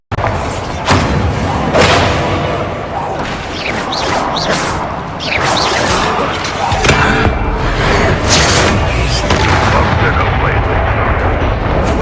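A Bombarda spell blasts in Hogwarts Legacy, a loud booming explosion amid continuous dense game combat noise with repeated thumps and impacts throughout.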